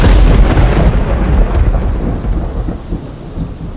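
Thunderstorm with heavy rain across Dahod district during the monsoon season: a loud, continuous rumble of thunder rolls beneath a dense hiss of rainfall, slowly easing in strength.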